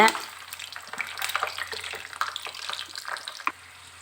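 Peanuts frying in hot oil for Avarebele mixture give a busy, crackling sizzle with scattered pops, close and fairly loud, dropping to a quieter hiss at the end.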